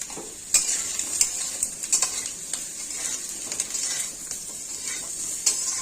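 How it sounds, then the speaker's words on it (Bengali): Potato, eggplant, tomato and drumstick pieces sauté in a pan with salt and turmeric under a bright, steady sizzle. A spatula scrapes and taps against the pan in frequent, uneven strokes. "এইভাবে আমি এখন সবজিটাকে সুন্দর করে সাতলাবো"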